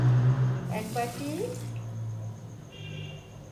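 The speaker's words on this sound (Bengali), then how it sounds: "এই বাটিটার মাপেই কিন্তু আমি এতে জল দেবো" Water is poured from a bowl into a pan of sugar in a brief splashing rush, heard close and under a speaking voice.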